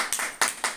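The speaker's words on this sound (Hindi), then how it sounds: "तालियां भाई," Audience clapping at a family unity gathering in Lucknow, a few sharp claps in a short uneven burst, fairly close.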